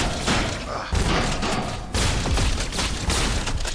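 Rapid gunfire in the VR shooter Scraper: First Strike, dense continuous bursts with brief breaks between volleys, loud and close, with no talk over it.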